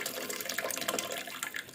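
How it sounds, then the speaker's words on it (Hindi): Homemade beef stock pours into a cooking pot for beef yakhni pulao, a steady, close splashing stream of liquid heard alone. "अब हमने जो बीफ स्टॉक बनाया था ना, वो अब इसके अंदर शामिल करते हैं।"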